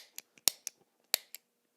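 Sharp mechanical clicks of a guitar pedal footswitch, about six in quick irregular succession, close and crisp against near silence.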